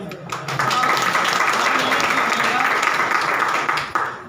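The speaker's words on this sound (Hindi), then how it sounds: "उन सब के लिए जोरदार ताली।" Loud, sustained applause from a seated audience at a DXN business seminar, a thick wash of clapping that swells quickly and holds steady for several seconds before dropping away.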